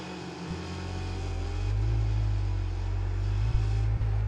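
Race cars in Wreckfest 2 on the European Rallycross main circuit, a steady loud engine drone with low rumble, holding mostly even with a couple of brief dips, no voices.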